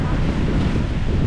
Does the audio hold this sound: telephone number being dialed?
no